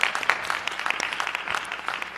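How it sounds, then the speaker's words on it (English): Audience clapping at a Board of Education meeting, honoring two outgoing board members: a dense, fairly steady patter of hand claps from a group, moderately loud and continuous, with no talk over it. "I'm going to clap"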